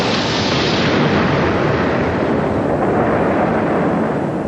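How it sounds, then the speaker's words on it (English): A huge, deep explosion roars as a Big Bang effect, a loud sustained broadband rumble that fills the whole clip without easing, alone with no voices. "The Big Bang."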